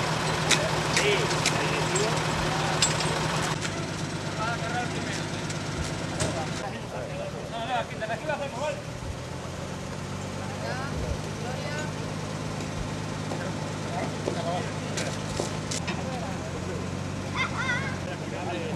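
A tractor engine idling at an outdoor village festival, a low steady rumble throughout with clanks and handling noises, while a crowd murmurs and people talk nearby.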